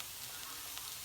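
Chopped onion sautés in a pan, giving a steady, close hiss and sizzle of frying.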